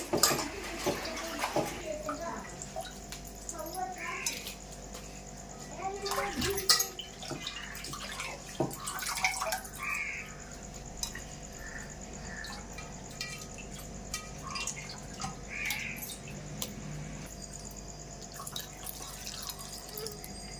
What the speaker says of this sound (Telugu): కొంచెం నీళ్ళు కూడా వేసుకొని మనకి గోంగూర ఉడకాలి కదా